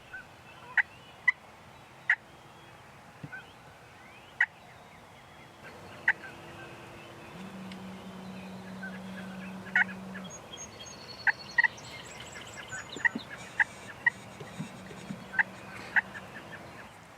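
Wild turkey gobbling during a spring hunt over decoys, several sharp gobbles spread across the stretch against a quiet outdoor background with faint bird calls.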